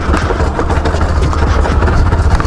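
Motorcycle engine running loud and close as the clutch is let out in second gear, a dense continuous rumble with a rough, slightly fluctuating roar and no clear pauses.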